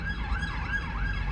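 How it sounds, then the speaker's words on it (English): Ambulance and police car sirens wail from the street, a steady rising and falling tone heard at a moderate distance over low traffic rumble. "There's bloody sirens everywhere. There's an ambulance there, there's an ambulance over there, there's a police car there."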